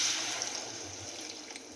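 Water poured gently into a pot of yellow pumpkin pieces to boil them for kootu, a soft, steady trickle and splash, quiet and close, with no talking.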